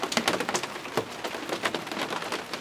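Rain from a thunderstorm in Larned patters steadily in a dense, crackling spray of close drops, fairly quiet and without any talking.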